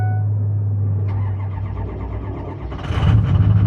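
A 6.0 Powerstroke diesel truck that has sat for about a week cranks and fires up, its low engine drone swelling louder near the end as it catches and runs close by.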